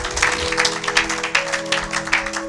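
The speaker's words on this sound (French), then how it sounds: "Acclamons pour la gloire de notre Dieu, de notre Seigneur." A church congregation applauding, with dense, steady clapping throughout and a sustained organ or keyboard tone held beneath it.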